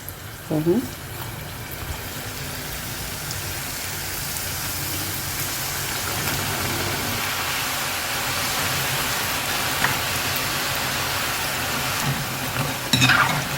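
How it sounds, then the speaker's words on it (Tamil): Maida flour chips frying in hot oil give a continuous, dense sizzle and crackle at close range, holding steady throughout with a few brief clinks of utensils. "எண்ணெய் நல்லா காஞ்சிருச்சு ஒன்று போட்டு பார்த்தேன்"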